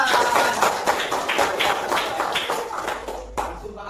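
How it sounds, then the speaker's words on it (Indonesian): Group hand clapping in a classroom during a lesson, a dense, busy patter of many hands over a few seconds with children's voices mixed underneath. "Ya, tepuk tangan bersama."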